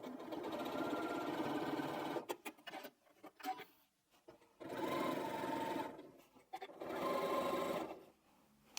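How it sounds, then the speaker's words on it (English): A sewing machine stitches quilt binding in three steady runs, each a few seconds long, separated by short pauses and light handling sounds, close and fairly loud with no talking. "I'll show you here on the machine how I do it, and then I'll probably just sit and sew"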